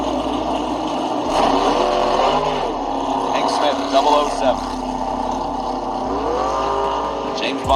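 Hank Smith's Super Gas drag race car makes a solo run at the New England Nationals, its engine roaring and rising in pitch under an announcer's steady commentary.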